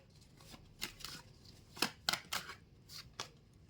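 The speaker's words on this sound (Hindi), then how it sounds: "ओके, एक और ले लेती हूँ मैं कार्ड।" A tarot card is drawn from the deck, giving a handful of soft, papery flicks and snaps close by in a quiet room.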